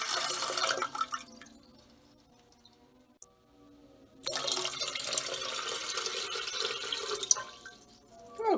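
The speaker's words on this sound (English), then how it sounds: "start off with cold tap water, not hot" Cold tap water runs from a faucet to fill a vintage coffee percolator, a steady broadband gush that pauses for a few seconds midway, then resumes loudly until the end.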